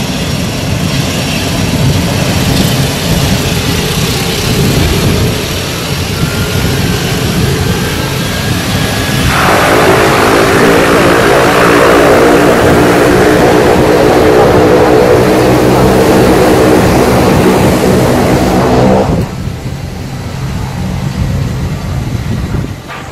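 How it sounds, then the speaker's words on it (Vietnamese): A seaplane lands on the water at Tuan Chau island, Quang Ninh. Its loud engine roar fills the scene, grows stronger and more droning for about ten seconds, then drops back to a steady rumble, with no talking. "cái con máy bay này nó xuống nước"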